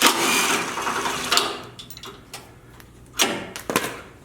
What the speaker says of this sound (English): So I'm going to take a 10 millimeter and bring that bracket off the frame.